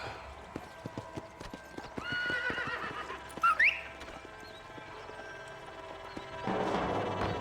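Horse in the video game Red Dead Redemption, with steady clip-clop hoofbeats of a gallop running throughout and a sharp whinny cutting in midway, set among game ambience and music.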